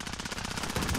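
Rapid automatic gunfire in a first-person shooter video game, a quick steady stream of shots at moderate loudness that swells slightly toward the end.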